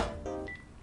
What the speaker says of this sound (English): Oh, that's my phone that just went off.